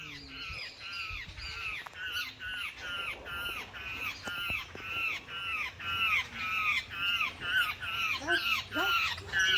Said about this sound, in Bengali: দেখি শালিক পাখি না।